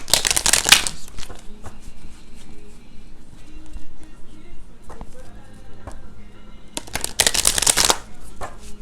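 Two loud bursts of cards being riffled and shuffled, one at the start and one near the end, with quiet rustling and handling between them.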